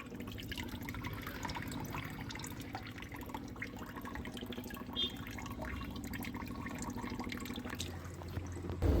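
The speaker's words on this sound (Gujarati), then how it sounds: "આગળનું પાણી પણ બધું નીકળવાનું સ્ટાર્ટ થઈ ગયું છે" Water runs out of an RO water purifier as it is cleaned, a steady close flow with drips and splashing, alone throughout without voices.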